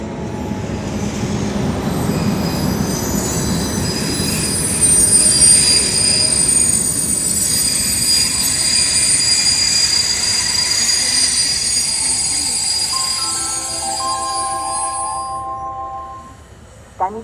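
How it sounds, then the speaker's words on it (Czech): An express train rolls into Jihlava station with loud, drawn-out squealing wheels and rumbling rail noise, slowing gradually; a public-address chime sounds as it comes to a stop. "přijíždí k nástupišti číslo 1 na druhou kolej"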